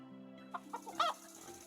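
Chickens cluck in the Medieval Dynasty video game, a few short bursts standing alone over a steady low background hum.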